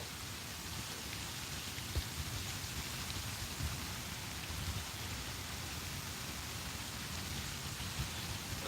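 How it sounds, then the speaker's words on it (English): Steady rain falls outdoors near a tent, a constant even hiss with a few faint drips and taps standing out, heard from close by. "Starting to rain again a little bit."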